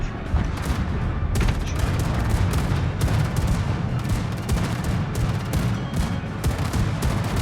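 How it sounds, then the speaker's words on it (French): Naval gunfire in World of Warships, a steady barrage of close, loud cannon shots and booms rolling over one another without pause, with heavy low rumble beneath the volleys. "Et on se tire dessus."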